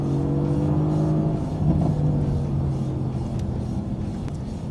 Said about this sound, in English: You get the pop, the cackle, instant torque, instant throttle.